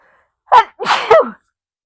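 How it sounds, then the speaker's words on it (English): A single close sneeze with a quick intake of breath then an explosive burst, loud and brief against silence. "Sorry, I had to sneeze there."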